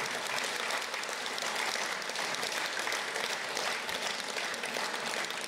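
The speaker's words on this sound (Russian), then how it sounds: "Евдокия Николаевна, вам аплодисменты." Dense, steady applause from a concert audience at an anniversary concert in a hall, loud and continuous throughout with no voices standing out.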